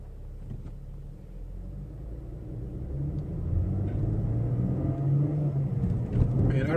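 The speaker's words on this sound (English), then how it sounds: "Man, I really like the sound of that exhaust." Deep, steady exhaust rumble of a 2017-18 Chevrolet Camaro heard from inside the car, swelling louder midway as the engine pulls, with a low droning tone throughout.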